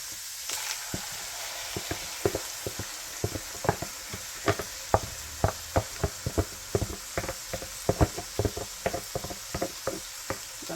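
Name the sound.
cooked ground beef simmering with sauce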